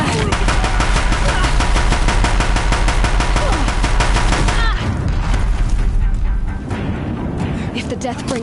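Deathbringer machine gun fire in the Horizon video game, a loud, rapid, evenly spaced stream of heavy shots. It continues for several seconds, then cuts off into rumbling blasts and lower booms.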